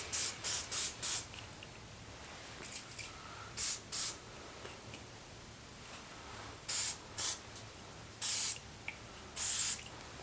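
Short bursts of spray painting epoxy primer onto brake parts for a Mk2 mTDI, several hissing blasts of a second or so each, separated by quiet gaps, fairly close.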